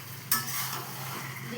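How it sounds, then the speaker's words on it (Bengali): Chicken curry being stirred and mixed in a pan: a sharp scrape of a utensil, then a steady soft sizzle of frying under faint pan movement. "এবার আমি ভালো করে মিশিয়ে নেব।"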